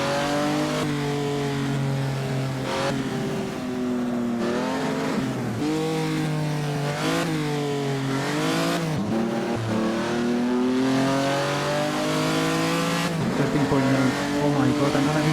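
A 1949 postwar Grand Prix race car at the Noris-Ring in Assetto Corsa roars steadily throughout, its engine pitch rising and falling through gear changes and revs, with other cars close by and a voice talking over it.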